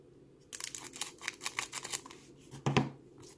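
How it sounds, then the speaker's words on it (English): Scissors snip and slice through plastic booster pack wrappers while opening Pokémon Dragon Majesty cards, a quick run of close crinkly cuts followed by one louder tearing snap near the end, no talking. "Yeah, I'm gonna be using scissors."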